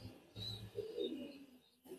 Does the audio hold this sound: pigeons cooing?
yes